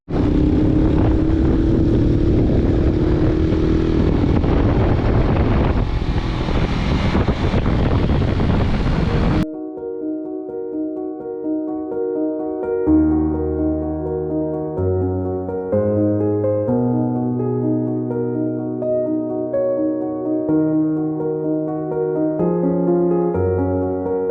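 Engine drone and rushing wind from a motorcycle taxi ride through Santiago de Cuba streets fill the first part, then cut abruptly to a steady melodic music track.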